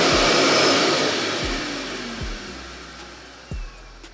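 A Karcher Puzzi 10/1 washing vacuum cleaner runs with a loud, steady motor whine and rushing airflow that slowly fades, broken by a few soft knocks and a brief bump near the end.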